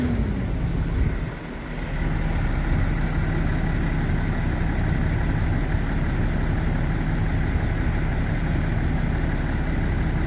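A 2017 Dodge Ram with the 6.7 Cummins diesel idles steadily, a loud, close, even rumble with a faint hum, briefly dipping early on before settling into a constant drone with no talk.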